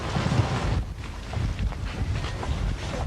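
Steady wind gusts buffet the microphone with low rumbling roar, continuous and fairly loud, no voices.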